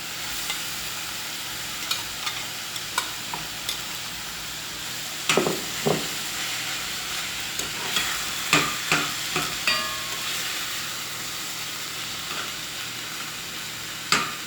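Saltfish fries in a pan with a soft continuous sizzle, broken by scattered scraping clicks of stirring, some sharper knocks near the middle, no talking.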